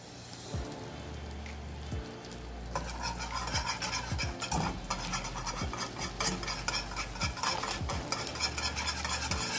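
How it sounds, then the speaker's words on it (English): Creamy garlic sauce with thyme being whisked in a pan, steady rhythmic scraping strokes over a soft sizzle, close and fairly loud throughout. "he's going to quickly whisk and taste it"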